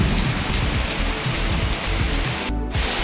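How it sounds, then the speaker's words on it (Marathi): Heavy rain pours steadily in a dense, unbroken roar, loud and close, with no voices. "हे बघा तुफान पाऊस आहे. आवाज बघा पावसाचा."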